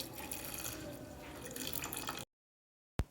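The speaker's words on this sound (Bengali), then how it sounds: "এবার এর মধ্যে দিয়ে দিচ্ছি জল।" Water pours into a pressure cooker over soaked dried peas being prepared for ghugni, a soft, steady splashing and trickling for about two seconds that then stops, with a short knock just after.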